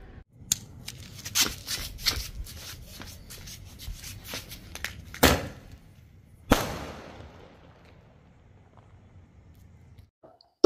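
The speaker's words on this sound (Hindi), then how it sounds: "गाइस ये है कलर टू साउंड जो कि ग्रीन कलर की जलती है" A green-burning "Colour two sound" firecracker goes off outdoors in a series of sharp cracks and pops scattered over several seconds, with two louder bangs near the middle before the noise fades to quiet.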